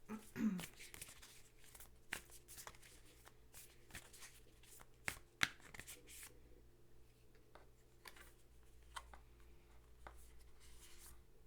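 Oracle cards being shuffled and drawn make soft papery rustles and a few crisp slaps at close range in a quiet room, with no one speaking.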